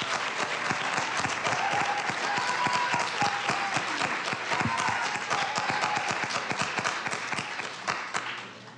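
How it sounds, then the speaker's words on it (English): An audience at a student video awards event gives the teachers a round of applause, many hands clapping briskly and steadily for several seconds before tapering off slightly near the end. "if we could give them a round of applause"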